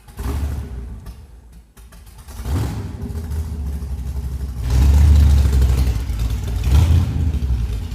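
A junk-built buggy cart's engine revs while driving around the block, a loud, low rumble that surges and swells midway, falling back and rising again with no talk over it.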